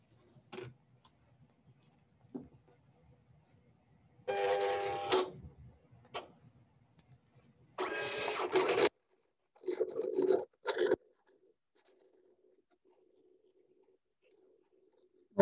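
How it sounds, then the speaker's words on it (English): A Silhouette cutting machine sketches a card design with a pen, giving quiet ticking motor movements and several louder bursts of carriage whirring, separated by near-silent pauses. "It's fun watching the machine work"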